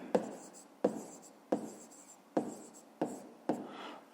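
Handwriting during a fifth-grade math exercise, with six sharp pen taps against paper at roughly regular intervals, each followed by a brief scratchy stroke, close and fairly quiet.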